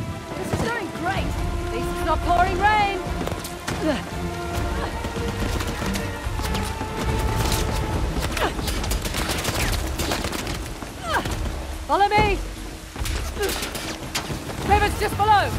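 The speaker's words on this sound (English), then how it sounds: "Pouring rain!" Steady pouring rain hisses throughout in Uncharted: The Lost Legacy, mixed with bursts of rapid gunfire and shouting voices, busy and loud from start to finish.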